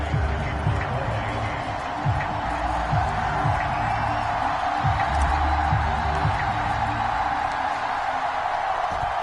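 A Miami Dolphins home crowd in the stadium before a football game against the New Orleans Saints keeps up a steady, broad roar of cheering and noise that fills the background without pause, heard at a distance.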